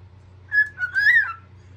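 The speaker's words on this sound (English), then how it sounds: "Who's that pretty birdie?" A pet bird gives a short clear whistle followed by a longer warbling whistle, close and loud over a low steady hum.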